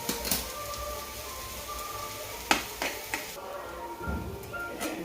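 Stale jowar bhakri crumbs being mixed by hand with a splash of water, giving soft scraping and stirring sounds with a few sharp clinks, near and moderately quiet, no talk.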